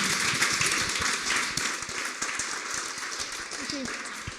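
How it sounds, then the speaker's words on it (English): An audience claps after a talk in a small gathering, a moderate, scattered round of applause with individual claps audible, heard fairly close and mixed with some voices. "Can we give her a big round of applause?"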